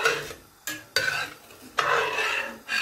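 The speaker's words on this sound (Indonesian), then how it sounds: "Nah, ini dibiarkan mendidih dulu." Broth with shiitake mushrooms, with water poured into the very hot pot, hisses and bubbles in several loud bursts separated by brief quieter gaps, with no voices.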